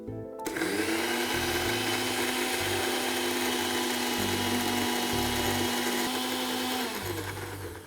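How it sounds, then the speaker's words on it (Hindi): A mixer grinder whirs steadily for about seven seconds, grinding chutney into a smooth, fine paste. The motor is loud and close, with a brief spin-up and a taper at the end, and nobody speaks. "तब तक ये जो चटनी है हम इसे पीस के बिल्कुल फाइन और स्मूथली ग्राइंड कर लेते हैं।"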